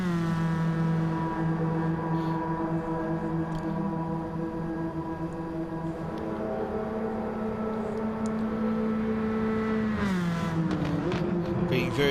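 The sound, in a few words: Toyota MR2 race car passing by the camera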